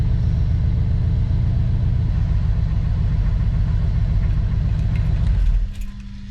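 A 1983 Ford F150 engine idles on its first startup after an oil change, a loud, steady low rumble close by that cuts off near the end and leaves faint jingling and clinks.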